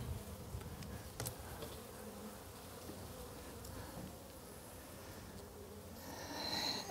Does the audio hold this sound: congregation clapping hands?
no